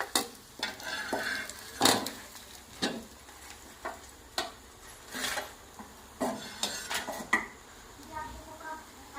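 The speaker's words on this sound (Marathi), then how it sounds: "मरळीचे पीस मस्त फ्राय झाले." Pieces of murrel fish fry in a pan over a wood-fired clay stove, a low sizzle broken by repeated scraping and clinks of a utensil turning them in an irregular rhythm, close by.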